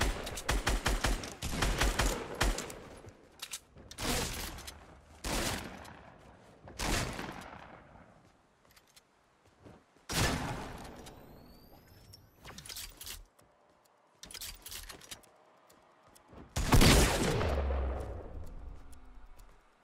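Fortnite gunfire at Tilted Towers: a rapid burst at the opening, then loud separate shots spaced across the stretch, with a heavier blast near the end and almost no talk.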